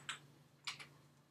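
Computer keyboard with a command being typed: a few quiet, sharp key clicks spaced irregularly, close and alone.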